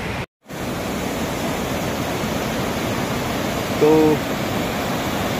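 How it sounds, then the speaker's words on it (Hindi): The Kali river in Uttarakhand, swollen and rushing after heavy rain, makes a steady broadband roar of fast water that continues unchanged, with a brief dropout near the start and one short spoken word over it. "मैं अभी आपको ये काली नदी दिखा देता हूँ कि अभी कैसी हो रही है"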